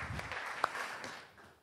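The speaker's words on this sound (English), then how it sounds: "I just want to have another thank you applause for all the organizers for this event." A conference audience applauds the event organizers, a soft, distant patter of clapping from a hall that thins out and fades over under two seconds.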